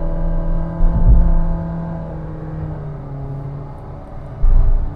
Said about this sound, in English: no matter how harder on throttle, the power delivery is going to be linear, and it makes more noise too